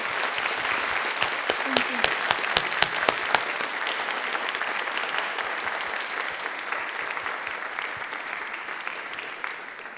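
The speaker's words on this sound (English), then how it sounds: "please join me in giving Yoel another round of applause" A concert audience applauds a pianist at length, dense steady clapping with a few sharper claps standing out, and a brief word spoken over it near the start.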